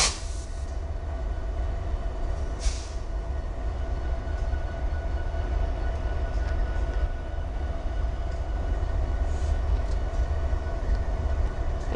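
An NS 135 freight train rolls past at Oyama Yard, North Carolina, with a steady heavy rumble, a droning engine tone and a few brief metallic squeals, close and continuous throughout.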